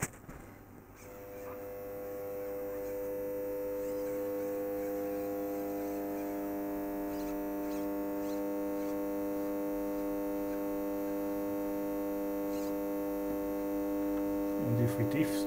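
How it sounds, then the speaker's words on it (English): A linear power supply's transformer hums steadily under load, a loud, rich mains drone with strong harmonics that holds for about fifteen seconds and shifts slightly near the end. "you probably hear that the hum of the transformer changes"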